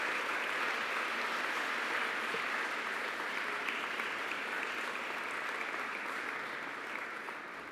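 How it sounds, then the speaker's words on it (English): Graduation ceremony audience applauding, a dense sustained wash of many hands clapping at moderate distance, steady throughout and easing slightly at the end. "Students, please applaud those people who have helped you to get here today."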